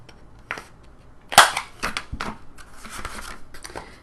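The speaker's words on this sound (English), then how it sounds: "I'm going to grab my corner rounder right here, and I'm going to round all the corners just on the bottom edges" A corner rounder punch cutting the bottom corners of a paper folio, giving a series of sharp, close clicks and snaps, one especially loud crack followed by several quicker, softer punches and some paper handling.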